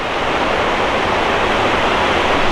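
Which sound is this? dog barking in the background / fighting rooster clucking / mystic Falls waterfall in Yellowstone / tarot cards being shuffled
mystic Falls waterfall in Yellowstone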